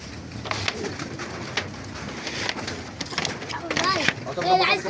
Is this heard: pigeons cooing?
yes